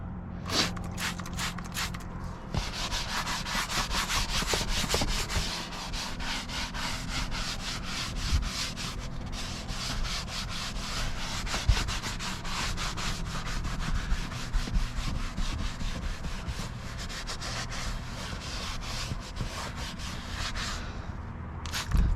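A towel scrubs over a leather car seat's upper portion, giving a steady, continuous close rubbing and swishing with small bumps and shifts, alone with no talk for the whole stretch.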